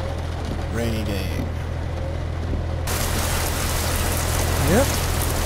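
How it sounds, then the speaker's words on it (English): Steady rain hisses over a constant low engine drone in the trucking game American Truck Simulator, a continuous wash of falling water that brightens partway through, with a voice talking faintly beneath it. "Rainy day."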